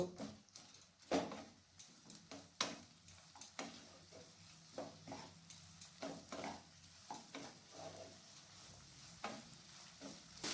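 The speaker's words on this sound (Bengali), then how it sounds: "পেঁয়াজটাকে মিডিয়াম আঁচে রেখে গোল্ডেন কালার আসা পর্যন্ত ভেজে নেব।" Two medium onions, finely chopped, fry over medium heat with a faint, steady sizzle broken by scattered stirring clicks and clatters of a utensil in the pan.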